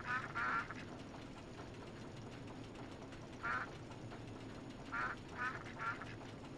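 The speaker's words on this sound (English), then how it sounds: "Ducks." Ducks in the theme-park game RollerCoaster Tycoon 3 give short nasal quacks in scattered bursts, a pair at the start, then singles and a quick trio, over a constant mechanical background hum.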